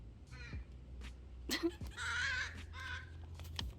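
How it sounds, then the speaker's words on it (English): Crows caw loudly outdoors, several harsh calls in a short irregular burst, one long drawn-out caw in the middle, over a low steady background hum. "The crows are attacking."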